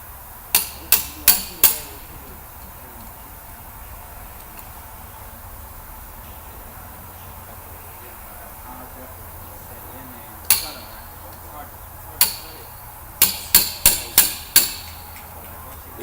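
A hammer strikes an engine valve retainer in sharp metallic taps, a quick burst of four at the start and then scattered single blows and another cluster of several near the end, with quiet shop background between.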